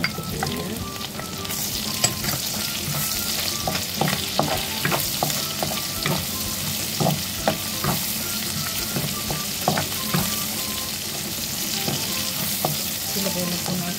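Garlic sautés in a pan with a steady, close sizzle, broken by frequent scrape-and-clack strokes of a spatula stirring through the oil, and no talking.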